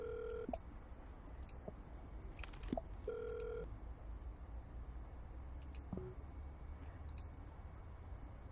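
Telephone keypad dialing tones in a homeless survival video game, a few short steady beeps in separate bursts over a low constant background hum, fairly quiet.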